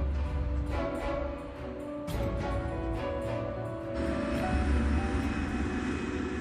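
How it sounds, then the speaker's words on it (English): KLM airliner on a foggy runway, its engines a steady low rumbling drone with a rising whine near the end, a few faint clicks over it, no voices. "The KLM is now back on the runway."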